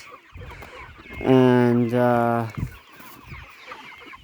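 A chicken lets out a loud, drawn-out squawking call in two close bursts, standing clearly above low background sounds. A person speaks briefly and quietly just before it.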